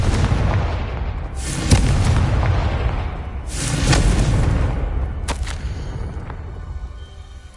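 Confringo blasting spell from Hogwarts Legacy: a rumbling series of heavy booming blasts, three main bursts with long decaying rumble between them, loud and close, with no voices.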